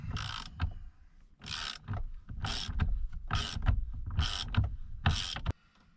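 A ratchet on a 21 mm socket turns the steering wheel nut on a Jeep XJ. Six bursts of rapid close clicking come in steady rhythm, each lasting about half a second, with brief pauses between.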